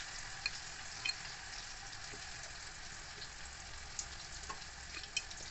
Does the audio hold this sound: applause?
no